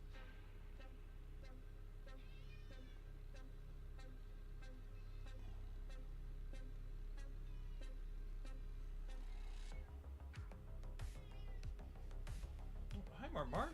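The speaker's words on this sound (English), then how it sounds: "We're being yelled at by the marble cat for some reason." A marble-coated cat meows insistently a few times, the calls rising near the end, over a low steady hum with faint traffic noise.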